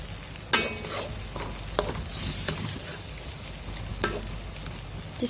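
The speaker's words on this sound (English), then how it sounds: "So I am just going to stir them." Fettuccine stirred in a pan of creamy sambal tempoyak sauce: a continuous gentle sizzle broken by several sharp utensil scrapes and clinks against the pan, close and fairly loud.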